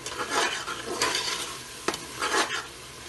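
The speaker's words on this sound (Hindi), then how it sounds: "मसाले डालेंगे। थोड़ा सा इसको भूनेंगे" Spices stir-fried in a pot for arvi gosht, a steady close sizzle with a few scraping stirs and one sharp utensil knock partway through, no voices.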